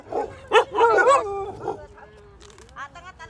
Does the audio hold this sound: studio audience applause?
no